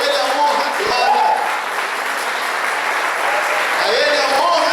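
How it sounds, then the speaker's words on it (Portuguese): Church congregation applauding during a worship service, steady loud clapping throughout with voices calling out over it. "Vamos aplaudir ao Senhor"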